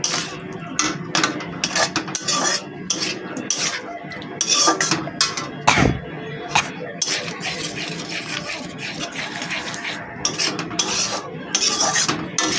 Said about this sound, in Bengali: এরপরে আমি খুন্তিতে ভালো করে কষিয়ে নেব